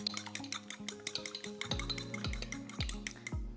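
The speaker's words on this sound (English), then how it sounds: "so I'm just going to beat that together" A single large egg being beaten in a mixing bowl, with quick clinking taps of a utensil against the bowl in a steady, brisk rhythm, fairly quiet and close.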